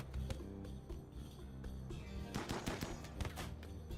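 Rapid bursts of video game gunfire from a tribal survival game, several quick volleys of shots crackling close and loud with no talking.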